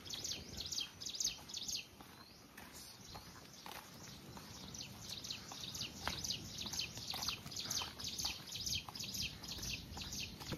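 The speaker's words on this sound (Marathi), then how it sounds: "पक्ष्यांचा किलबिलाट." Birds chirp and twitter in a green hillside setting at Ajinkyatara Fort in Satara, with many quick bright calls repeating throughout, heard a bit distant alongside soft footsteps on the trail.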